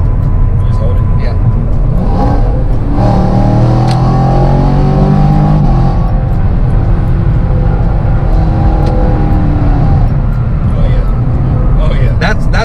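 A 2019 Chevrolet Camaro SS running E85 fuel accelerates with its dual-mode exhaust open, a loud, steady engine roar rising in pitch over about 12 seconds while people talk over it.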